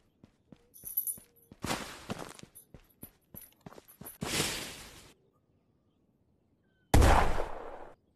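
Grenades detonating in the Ghosts of Tabor VR shooter: a few separate broadband blasts, each a sharp crack with a short rumbling tail, spaced several seconds apart. Faint clicks and footstep-like taps fall between them, with no talking.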